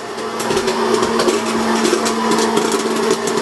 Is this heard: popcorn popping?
yes